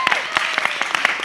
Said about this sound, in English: So can we have one more cheer for both of our Elles?